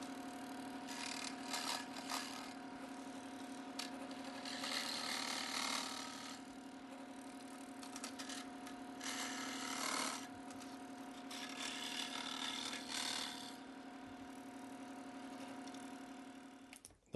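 A scroll saw cuts through wood with a rapid, buzzing reciprocating hum. The cutting noise swells and fades in several bursts as the blade works through the piece over a steady motor drone, close by with no talking.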